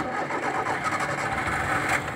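A used car engine idles steadily under the open hood at a car dealership, a continuous mid-pitched hum with a faint rattle that holds an even level throughout, no voices heard.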